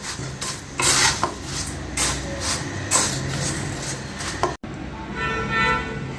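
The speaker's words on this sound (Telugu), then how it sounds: "ఇప్పుడు ఇవన్నీ బాగా మిక్స్ చేయాలి." Puffed rice, sweet corn and lemon juice for Andhra-style muri mixture are stirred briskly in a bowl, giving a close, steady crackling rustle with scraping spoon clicks that stops briefly and then resumes more softly.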